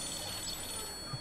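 A telephone rings steadily throughout a tense scene in a police-officer drama, a continuous electronic ring at moderate volume with no pause.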